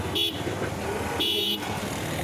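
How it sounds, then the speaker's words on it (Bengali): A car horn in a traffic jam near a railgate in Gazipur gives two short honks about a second apart, over a steady engine and road rumble. "হর্ন দিলাম"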